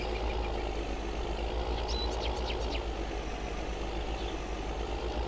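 New Holland T8 tractor engine in a video game, a steady low idling rumble that holds constant throughout, with faint bird chirps over it and no talking.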